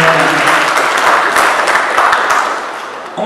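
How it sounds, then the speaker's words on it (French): An audience at an energy transition conference bursts into steady, fairly loud applause that holds for a few seconds before tapering slightly. "vous pouvez l'applaudir également"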